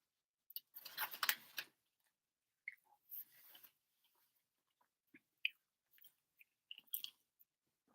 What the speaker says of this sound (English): If you guys hear chewing, that's because I'm eating right now at the same time.